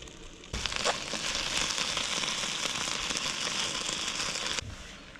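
Steady rain falls throughout a summer night of camping in Ireland, a dense, even hiss of drops pattering on a tent or nearby surface, close and continuous, with no one speaking.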